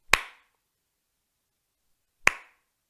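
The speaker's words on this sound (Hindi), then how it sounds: "ये मैं टेबल के ऊपर आवाज कर रहा था, चुटकी की आवाज." Two crisp, isolated snaps or taps on a tabletop, spaced about two seconds apart, each close and sharp with a short decay, separated by silence.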